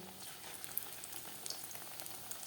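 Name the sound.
frying dal pakora (lentil fritters)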